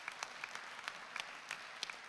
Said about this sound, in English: The least we can do is to applaud him with a resounding round of applause.